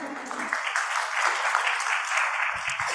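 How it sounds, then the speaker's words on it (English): An audience applauds a presenter at a tech women's festival, a broad, even wash of clapping hands that holds steady and moderately loud for three seconds before tapering slightly at the end. "Big applause for Aida."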